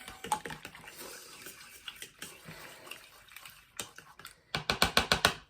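A fork beating eggs in a bowl, quiet irregular clicking and tapping that builds into a fast, louder run of rhythmic strikes near the end, close by and with no talk.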